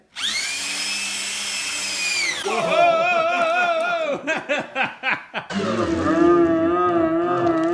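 A power drill spins a freshly installed engine to prime its oil pressure: a loud high whine settling into a lower steady drone, broken by a run of rapid stuttering pulses, then resuming, with a person heard briefly.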